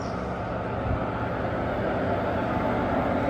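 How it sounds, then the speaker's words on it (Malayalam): Idling train engine number 22718 of the Guruvayur train standing at a platform, a steady low diesel rumble close by with no clear change or rhythm over a few seconds. "അങ്ങനെ എഞ്ചിൻ ചാലുവായി ഇരുപത്തിരണ്ട് എഴുന്നൂറ്റി പതിനെട്ട് എഞ്ചിൻ നമ്പർ"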